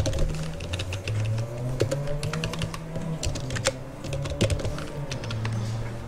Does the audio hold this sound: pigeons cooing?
no